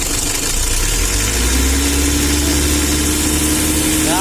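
A tuned motorcycle engine idles loudly up close, then the revs climb and hold at a steady, smooth whine, with the throttle blipped again near the end; no talking.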